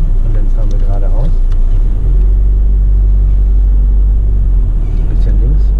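A VW Passat drives along with a loud, steady low engine and road rumble filling the cabin throughout.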